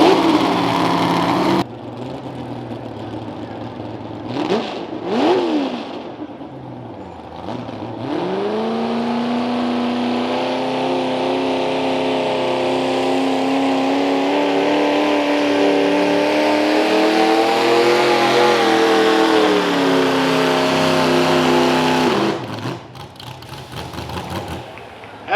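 Mini rod racing tractors rev hard at a fair track in Milledgeville, Illinois, one loud engine climbing and holding a steady high whine for about twenty seconds, with brief gaps and bursts at the start and end.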